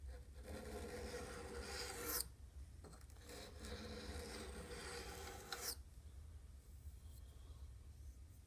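Someone files the burr off the blade of a rusty Corona garden pruner being sharpened: two quiet stretches of raspy back-and-forth rubbing, each lasting a few seconds, with a short pause between and no speech.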